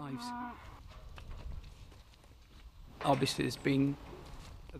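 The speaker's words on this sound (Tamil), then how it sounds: "இந்த மாடுகளை பராமரிப்பு இல்லத்திற்கு இன்று அனுப்புகிறோம்" Cattle on a farm, being sent to a care home: two loud, close moos, one at the start and a longer one near the end, over a quiet rustling background, with a voice also present.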